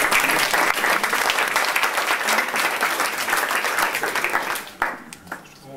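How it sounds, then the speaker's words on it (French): Audience applauding after a round table at a university event, with dense, even clapping that thins out and fades near the end. "je crois qu'on peut les applaudir"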